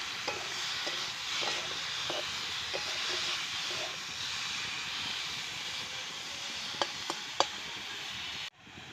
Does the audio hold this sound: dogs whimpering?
no